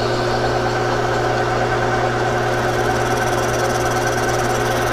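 A lathe turns a cast plastic part on a light cut, giving a loud, continuous mechanical hum with a steady whirring drone and faint rhythmic vibration, with no pause throughout.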